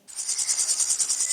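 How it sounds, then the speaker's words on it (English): Steady, pulsing insect chirp from a grasshopper, a bright high trill repeating in even rapid beats, close and continuous with nothing else around. "Grasshopper."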